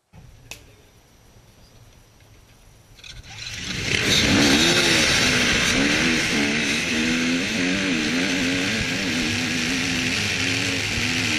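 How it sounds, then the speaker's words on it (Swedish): A motorcycle starts a Grand National race on Gotland: after a few quiet seconds with a sharp click, the engine bursts in loudly and revs hard through the gears, staying close and continuous to the end. "Han kör motorcykel också."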